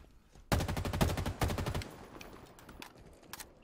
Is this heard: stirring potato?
no